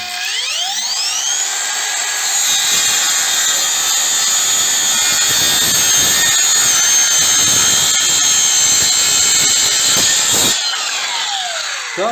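A Ronix 8902K 20-volt cordless circular saw spins up with a rising whine, cuts through dry hornbeam wood in a loud, steady, close howl for about ten seconds, then winds down.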